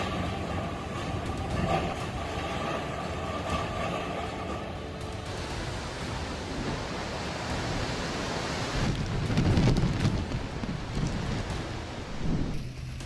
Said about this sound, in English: Howling winds and roaring seas.